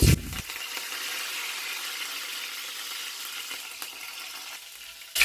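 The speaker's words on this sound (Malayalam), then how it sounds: "ആ കറിവേപ്പില ആ ഒരു എണ്ണയിൽ കിടന്ന് മുരിഞ്ഞു കിട്ടുന്നതാണ്" Curry leaves crackle and fry in hot coconut oil sprinkled with salt, a steady close hiss running for several seconds before a brief bump at the end.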